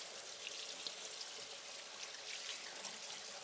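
Tap water runs steadily into a kitchen sink during a quick wash, a soft, constant splashing hiss heard faintly with no talk.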